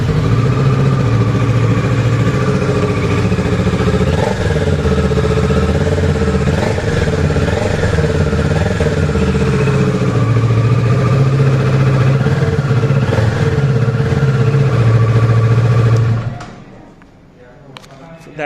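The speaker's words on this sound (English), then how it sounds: "So that was the exhaust sound of the Ninja 650." A 2021 Kawasaki Ninja 650 BS6, a 650cc parallel-twin sports tourer, runs steadily with a loud, close exhaust drone and a strong low rumble for about sixteen seconds, then cuts off abruptly into near silence.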